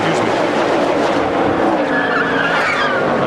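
A NASCAR Winston Cup race car skids and squeals its tires as it slides to a stop, a loud, rough, continuous screech mixed with engine noise and trackside roar.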